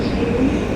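A New York City subway F train rumbles steadily with a dense, low roar, loud and close throughout, with no voices.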